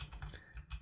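A quick run of key presses on a computer keyboard, as when pressing Control D: several crisp, close clicks and taps in uneven rhythm, with no talking.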